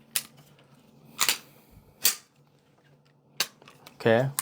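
M18 pistol being cleared, a handful of sharp separate mechanical clacks spaced about a second apart, close and alone, ending in a longer metallic rattle of the slide being racked.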